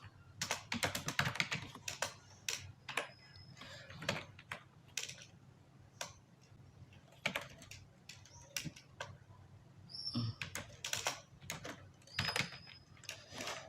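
Keys clatter on a computer keyboard as HTML code is typed, irregular bursts of quick close clicks separated by short pauses, with no voice over them.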